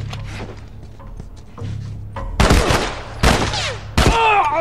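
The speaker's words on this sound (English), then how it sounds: "I got a headshot then." Gunfire in The Last of Us: three sharp, loud shots at roughly one-second intervals rise out of quiet ambient game noise, each trailing into a short echoing decay.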